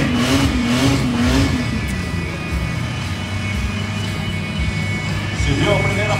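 A pro stock pulling tractor at a tractor pull in Castro, Brazil, roars loudly and continuously, its engine note rising and wavering, with crowd and commentary mixed underneath.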